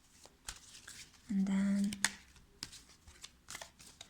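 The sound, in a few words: shuffling tarot cards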